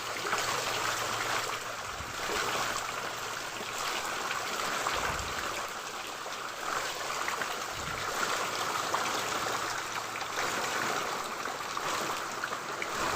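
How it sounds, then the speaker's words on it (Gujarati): Torrential rain falls across a village cotton farm in an unbroken roaring hiss, near and loud, with a couple of faint low thumps beneath the steady wash. "હવે વધારે વધ્યો હવે વરસાદ ફૂલ આવવા માંડ્યો"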